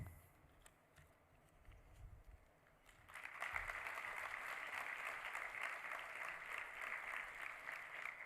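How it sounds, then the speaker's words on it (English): An audience at a convocation ceremony breaks into applause after a quiet pause, then keeps up sustained, steady clapping from a large crowd at moderate distance. "can we have another round of applause"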